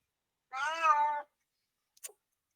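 A single clear cat meow in a Gloomhaven tabletop RPG session, an alley cat, drawn out for under a second, followed by a brief faint tick after a pause.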